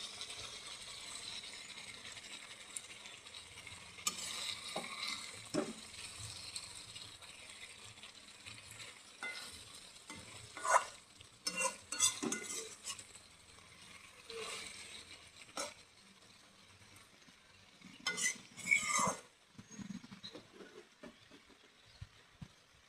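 Fish sizzling in hot oil in a home kitchen, with a soft continuous fry crackle broken by sharp scraping and clinking bursts as the pieces are stirred and turned.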